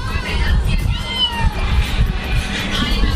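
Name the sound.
cat meowing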